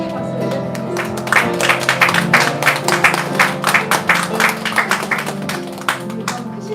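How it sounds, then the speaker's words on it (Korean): A church congregation claps together in a steady rhythmic beat, loud and close, with music and sustained tones underneath. "그 주님께 감사와 찬양의 박수를 드리겠습니다"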